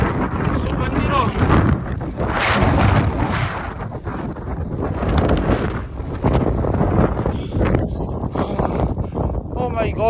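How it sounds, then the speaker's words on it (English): Strong, gusting wind buffets the microphone during a snowstorm near a mountain top, a loud continuous roar with surges, with a person speaking faintly underneath. "It's so windy though."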